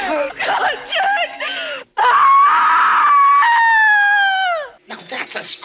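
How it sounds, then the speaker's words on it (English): A woman in Blow Out (1981) lets out a long, loud, rising and wavering scream that holds for about three seconds, with frantic pleading voices before and after. "Now that's a scream!"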